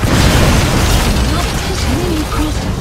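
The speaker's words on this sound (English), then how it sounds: "did you see that explosion?" A crashing enemy vehicle explodes in the stealth video game Metal Gear Solid V: The Phantom Pain, a loud heavy low-end boom and rumbling burst that rolls on and fades gradually.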